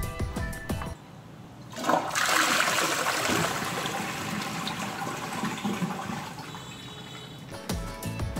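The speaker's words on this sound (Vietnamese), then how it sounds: "Trước tiên mình sẽ nhấn xả tiểu trước." A Viglacera VI88 two-piece toilet on half flush: a short click, then a loud rushing gush of water that holds steady for several seconds before tapering into a trickle and refill as the tank empties.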